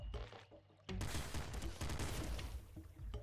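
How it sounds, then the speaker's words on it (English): A flame pop gun fired in the video game Nuclear Throne: a short popping burst that swells into a dense, continuous crackling roar lasting a couple of seconds, loud and alone. "Flame pop gun. That sounds pretty good."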